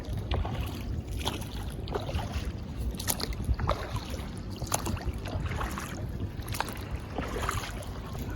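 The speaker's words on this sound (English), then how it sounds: "Today I'm rowing because I couldn't be bothered to lift the outboard engine off the back onto the tender" Rhythmic splashing and dipping of oars as a dinghy tender is rowed across a bay, steady strokes with light creaks, close by against a soft outdoor wash.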